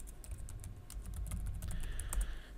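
Quick, irregular clicks of typing on a computer keyboard, a run of light keystrokes close and fairly quiet, with no talking.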